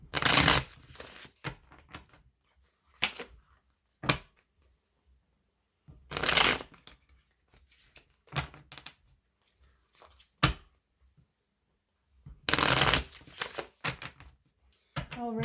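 Witch's Tarot cards get shuffled in separate rough bursts, each a dry riffle or scrape, split by stretches of near silence and a few sharp taps.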